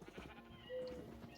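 A sheep in the video game Minecraft gives a short bleat in the middle, over a quiet, busy game background. A brief crisp click follows at the end.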